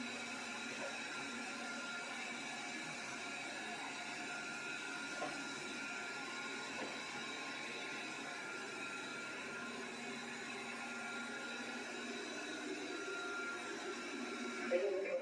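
A budget robot vacuum cleaner with 2,000 Pa suction runs continuously nearby, a steady whirring motor drone with constant brush and airflow hum throughout.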